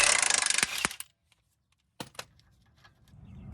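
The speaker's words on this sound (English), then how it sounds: "we're going to start by removing this 19mm bolt that holds the sway bar link in place" A power tool whirs for about a second while a 19mm bolt holding the sway bar link is loosened on a Hyundai Sonata during front strut replacement, followed by a pause and then a few metallic clanks and light handling noises.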